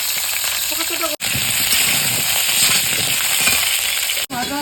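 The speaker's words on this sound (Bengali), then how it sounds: "তেল দিয়ে আলুগুলো গুলো একদম সুন্দর করে ভাজা করে নেব" Potatoes fry in oil in a hot wok, giving a loud, steady sizzle with crackling spatter, broken by two brief cuts in the sound; faint voices may sit underneath.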